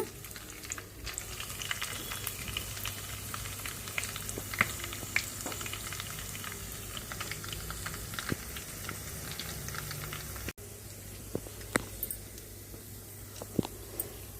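Dried red chillies frying in tempering oil with mustard seeds, dal and curry leaves for a potato fry, a steady dense sizzle and crackle held close, with occasional stirring clicks.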